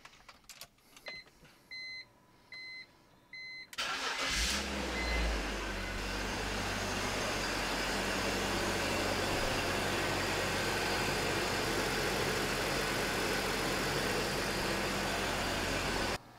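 BMW engine fitted with a secondary air system, started warm: a few faint clicks and whirs, then the starter cranks and the motor catches into a steady, loud idle that runs on without talk.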